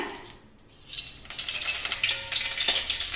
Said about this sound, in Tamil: இப்போ தாளிக்கிறதுக்கு எண்ணெய் விட்டுக்கலாங்க